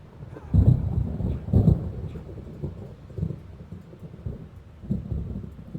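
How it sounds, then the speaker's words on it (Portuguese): Thunder from the video game Alan Wake rolls through a stormy night, several heavy low booms and rumbles swelling at intervals over a constant dark backdrop, loud and close with no talk over it. "O trovão tá bem alto."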